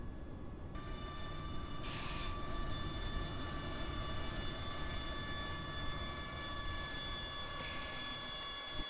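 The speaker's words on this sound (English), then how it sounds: "Just taxi her off the runway, I guess." In the Combat Air Patrol 2 flight game, an aircraft engine rumbles and whines steadily as the plane taxis off the runway, loud and continuous with thin high tones and two brief hiss bursts.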